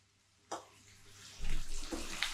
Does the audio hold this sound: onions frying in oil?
yes